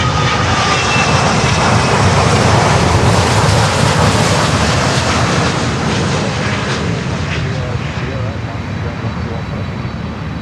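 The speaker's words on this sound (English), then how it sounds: "TAP Air Portugal 330-900." TAP Air Portugal Airbus A330-900 jet at an airport, a loud, steady broadband engine roar that holds strong for the whole stretch and eases slightly near the end, with faint voices underneath.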